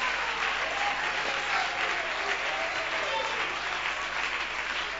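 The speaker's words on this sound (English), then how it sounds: "Let's clap our hands to the Lord." A church congregation claps hands together in praise, a dense steady patter of many hands that stays even from start to finish, with faint voices underneath.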